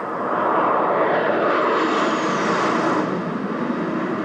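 Jet fighter aircraft such as a MiG roars overhead in a steady, loud broadband rush that holds for several seconds, with no talk.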